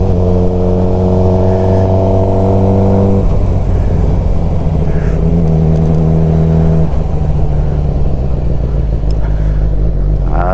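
A Suzuki GSXR 600 K7 motorcycle is ridden on the road with the engine revving through the gears, loud and close, its pitch climbing and then dropping at each shift under steady wind noise.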